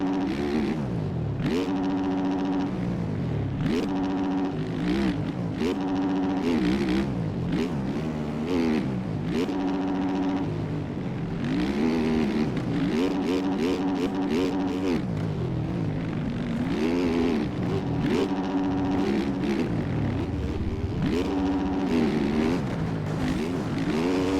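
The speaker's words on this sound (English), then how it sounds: "I had to downshift to first to get the oomph to go over that quad" A motocross bike engine in the MX Bikes racing game, revving and shifting through gears in a continuous loud whine that rises and falls with throttle over a long stretch.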